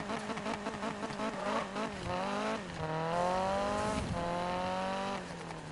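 A car in the Need for Speed racing game revs hard in first gear, its engine note climbing in rapid repeated sweeps, loud and steady with no talk.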